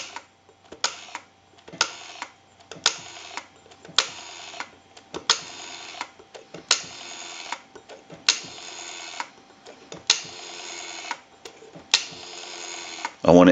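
Numbers dialed one after another on a Stromberg Carlson Fatboy rotary telephone under repair, each a whirring dial return with clicking pulses, repeated about a dozen times in an even rhythm.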